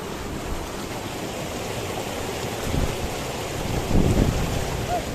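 Rushing water on a rough Himalayan trekking path from Gangotri to Gaumukh, a steady broadband roar with slight swells, continuous and fairly loud, with wind buffeting the microphone.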